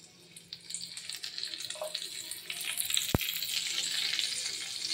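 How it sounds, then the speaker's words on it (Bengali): Vegetable onion fritters (piyaji) frying in oil mixed with a little butter, with a steady bubbling sizzle that builds in intensity, a sharp utensil click near the end, close and moderately quiet. "এই যেগুলো সব তুলে নিয়েছি, এবার বাকিগুলো আমি বসিয়ে দেবো এখানে।"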